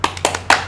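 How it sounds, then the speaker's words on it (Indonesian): Hands clapping a rhythmic cheer during a second-grade lesson, a quick pattern of close, sharp claps in short bursts with no voices. "tepuk semangat"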